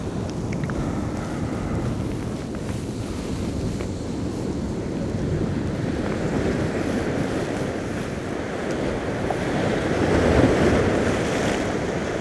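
Sea waves wash steadily against the shore during shore fishing, a continuous rushing surf mixed with wind buffeting the microphone, swelling slightly louder near the end with no voices.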